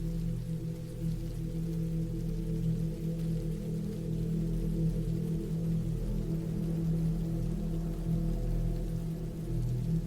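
Steady cold rain falls continuously, a dense even hiss of drops on surfaces that stays constant throughout with no voices.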